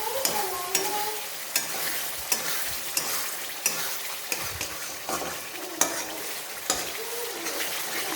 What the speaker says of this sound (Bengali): আমার এবার ঢাকনাটা খুলে নাড়াচাড়া করে নেব।